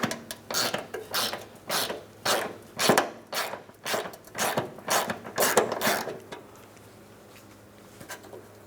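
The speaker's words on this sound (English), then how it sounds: "Let's go ahead and remove that mounting nut." A 10mm ratchet removing a mounting nut from a floor pan splash shield on a Mitsubishi Outlander clicks in a quick series of close, distinct strokes, then falls quiet.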